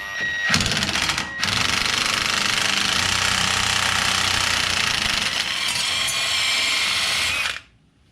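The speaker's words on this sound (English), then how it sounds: "That came off easy enough with the impact." An impact wrench hammers loose the shock bolts on a Ford Bronco, with a short burst, a brief pause, then a long sustained rattling run, loud and close, before stopping abruptly.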